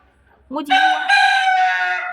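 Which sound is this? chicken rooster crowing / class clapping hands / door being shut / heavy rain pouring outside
chicken rooster crowing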